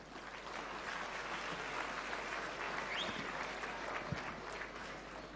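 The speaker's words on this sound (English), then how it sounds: "Big round of applause." Audience applause at a students' conference on capital gains, a steady dense clapping from a seated crowd filling the room at moderate distance, with no voices over it.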